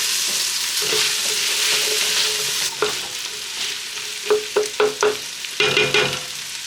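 Carrots sautéing in a pan for Mediterranean couscous, a steady close sizzle broken by a run of quick stirring scrapes and clatters in rhythmic bursts.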